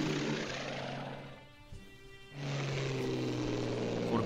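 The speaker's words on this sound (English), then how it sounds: "I might still send in a group of bombers against this anti-tank division" Bomber aircraft in the Strategic Command WWII strategy game, a loud broadband propeller-engine drone that thins out briefly in the middle and then surges back at full strength, with no talk.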